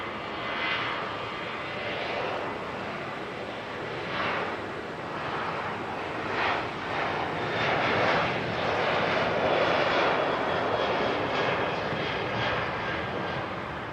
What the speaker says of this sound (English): Qantas 142 off to Sydney.